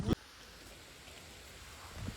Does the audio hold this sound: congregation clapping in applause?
no